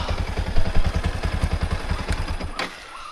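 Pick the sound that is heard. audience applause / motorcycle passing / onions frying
motorcycle passing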